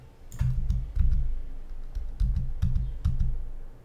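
Keys click on a computer keyboard, including the Z key, in a quick uneven series of about a dozen close, crisp taps with short pauses between small bursts.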